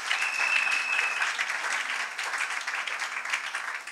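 A church congregation claps for the Lord in steady, dense applause, loud and continuous with no voices standing out.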